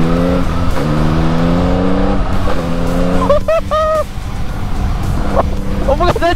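A 2021 Yamaha MT-09 motorcycle's engine revs under way, steady loud drone with rising and falling pitch as the rider accelerates, wind noise throughout and faint whining tones from passing traffic.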